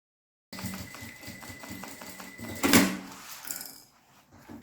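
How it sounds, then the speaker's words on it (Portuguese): A sewing machine runs in short stitching bursts over fabric bias binding, with a brief louder clatter midway before the stitching fades. Tapping and handling noises are mixed in, and nobody speaks. "Fiz uma costurinha aqui no viés"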